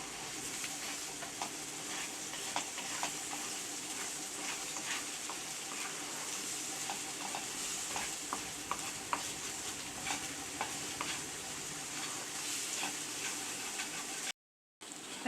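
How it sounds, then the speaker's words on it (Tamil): An egg mixture stirred in a hot pan for egg sevai, a spatula scraping with soft regular strokes over a constant faint sizzle, quiet and close with no talking. "இதை நல்லா கிளறி விட்டுக்கலாம்."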